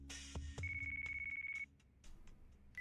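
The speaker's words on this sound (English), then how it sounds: "Is that a convenient phone call I hear?" A phone ringtone from the video game Yakuza 5 chimes in a bright, sustained electronic tone after a few short clicks, cutting off and briefly starting again at the end.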